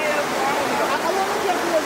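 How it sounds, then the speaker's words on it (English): A river flowing in a Jamaican setting, a steady close rush of water with broadband hiss and gurgle, with a voice faintly present. "River."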